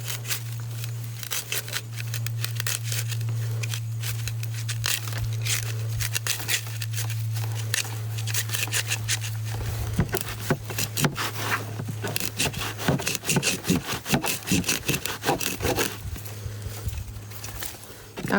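A garden knife saws through a plant root ball with close, repeated scraping and crunching strokes. The strokes grow choppier and more forceful toward the end over a low steady hum.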